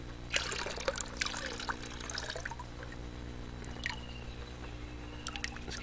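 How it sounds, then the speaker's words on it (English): Dirty water is poured off a gold pan after prospecting in central Victoria, Australia, giving close, intermittent trickles and splashing drips over a steady low hum. "Let's get the water out of there."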